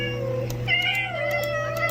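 A Minecraft cat meows in the game, a clear drawn-out mew with a second rising call, close and moderately loud over a steady low hum.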